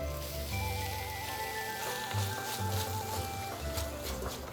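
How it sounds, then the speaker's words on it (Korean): Beef brisket and garlic frying in sesame oil over low heat, a steady dense sizzle and crackle running throughout with a faint tonal hum in the background, no voices. "은은한 불에 참기름에 양지를 볶아주세요"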